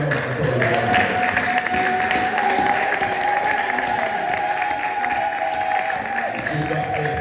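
A church congregation at a Sunday service applauds and cheers, sustained clapping and voices from a large crowd filling the room, with a held vocal or instrumental tone rising over the noise.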